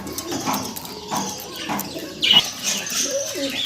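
Pigeons kept as a breeding pair in a pigeon seller's loft coo softly several times amid faint bird calls and wing rustles, with a brief louder flutter midway.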